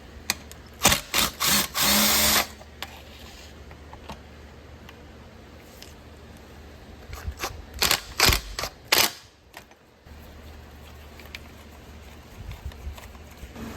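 Prying a manifold loose with a rounded-end tool on a Stihl TS 500i cut-off concrete saw: a few sharp clicks and scraping bursts, clustered near the start and again midway, over a quiet background.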